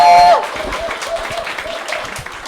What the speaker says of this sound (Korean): 다이아몬드 마스터 홍진용 나오실 때 큰 박수 부탁드리겠습니다.